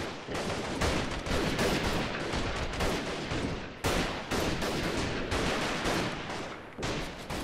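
Sniper rifle fire in a video game comes loud and close in heavy, overlapping bursts with a couple of brief breaks, like a continuous firefight rather than single spaced shots.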